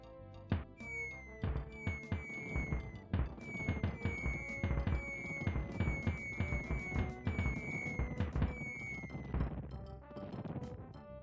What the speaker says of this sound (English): Now, speaking of fireworks,